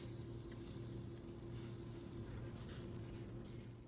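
Oil-free lentil burgers cooking in a pan and being flipped, a soft steady sizzle under a constant low hum, faint and even with no talk.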